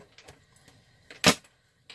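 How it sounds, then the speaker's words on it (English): Tarot cards are shuffled by hand in a quiet room, making soft scattered flicks and one louder, sharp riffle burst. "So I'm not really counting how many shuffles I'm doing."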